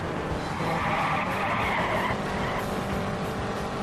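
Race cars start at Langhorne in a 1961 Indianapolis 500 Evolution career race, engines roaring together in a loud, steady drone with tire squeal and skidding, and no talk over them.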